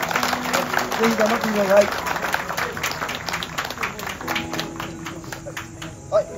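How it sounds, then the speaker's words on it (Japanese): An audience claps steadily at a hunting club's summer field shooting competition ceremony, a dense patter of applause running throughout while a person talks over it. "改めて拍手をお願いします。"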